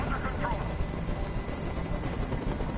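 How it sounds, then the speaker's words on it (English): A helicopter hovers nearby in the video game Detroit: Become Human, a constant loud thudding rotor drone that fills the whole stretch while a person talks over it. "I can't stand that noise anymore. Tell that helicopter to get out of here."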